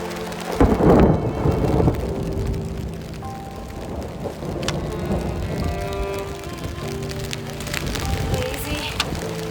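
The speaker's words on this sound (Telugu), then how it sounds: "చాలా వర్షం పడుతుంది" Dense, icy-cold rain pours steadily on the Kedarnath trek, a constant hiss with a heavier rumble near the start, with no talk.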